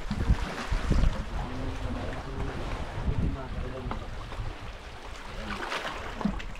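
Gusty seashore wind buffets the microphone at high tide, a rough low rumble with the sea's wash beneath it, strongest at the start and easing slightly later.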